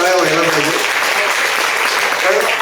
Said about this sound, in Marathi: एकदा जोरदार टाळ्या व्हायला पाहिजे